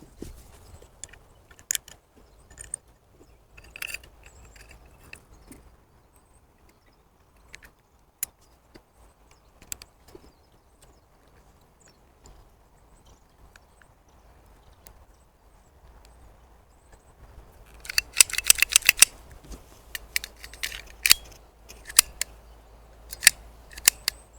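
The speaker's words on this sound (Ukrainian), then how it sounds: "а зараз збираю пістолет" Sharp metallic clicks and snaps sound while a TT pistol (Sur TT/Ansar 1071) is assembled, scattered and sparse at first, then a dense flurry of crisp clacks near the end, close by with no talk.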